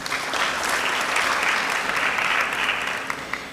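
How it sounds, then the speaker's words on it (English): A conference audience applauds a general after a geopolitics panel, a dense, steady burst of clapping that carries on for a few seconds before easing off near the end. "and an applause to the General, please"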